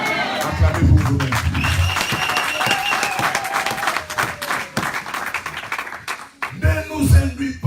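Church congregation applauding and cheering during a French-language worship service, a dense wash of clapping with raised voices lasting several seconds before the noise thins and a voice speaks near the end.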